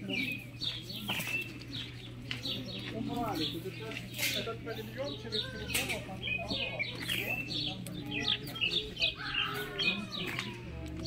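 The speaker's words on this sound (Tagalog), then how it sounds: "Ito yung mga chicken nila." Chickens on a Saskatoon farm chirp and cluck in scattered calls throughout, with people talking over them and a low steady hum underneath.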